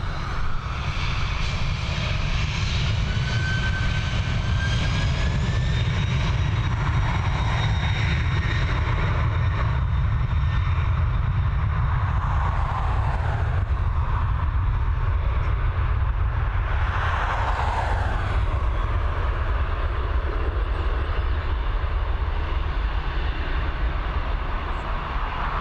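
A FedEx aircraft takes off at Dublin Airport with a loud, steady engine roar and deep rumble that holds for the whole stretch, swelling slightly as it climbs away.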